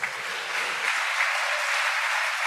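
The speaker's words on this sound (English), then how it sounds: "If we can give them a round of applause." Brief applause for presentation speakers, a soft, even patter of clapping heard somewhat distantly, with a faint low voice trailing off at the start.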